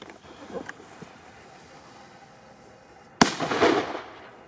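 A dumbum firework with a lost label is set off outdoors and gives a single sharp bang followed by a brief crackling burst that is fairly loud and close. Before it there are faint thuds and no talking.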